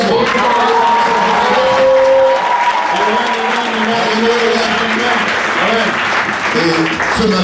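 A congregation at a thanksgiving church service in Fada N'Gourma, Burkina Faso, claps and cheers steadily for several seconds, with voices calling and singing mixed into the loud, sustained applause.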